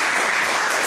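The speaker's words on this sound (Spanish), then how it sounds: "Por favor, palmas para Michel Ascueta." Audience applause for speaker Michel Ascueta at a university event, a dense and steady wash of clapping that holds loud and even for about a second with no voices over it.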